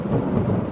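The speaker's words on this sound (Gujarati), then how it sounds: "ક્યાંક ચોમાસું ગાજે છે રાનમાં" A deep, rolling rumble of thunder, loud and sustained, with no other sounds over it.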